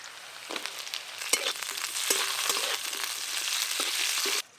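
Chopped onions tipped into hot white oil with garlic, ginger and slit green chillies, a sudden loud sizzle that swells into continuous close frying with stirring scrapes, then stops abruptly at the end.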